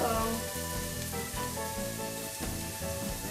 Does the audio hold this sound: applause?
no